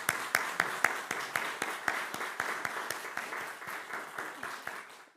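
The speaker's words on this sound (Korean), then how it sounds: "우리 주님께 큰 영광의 박수를 돌리겠습니다" A church congregation applauds at a 28th anniversary service, a dense, steady wash of many hands clapping with sharper individual claps standing out, gradually thinning toward the end.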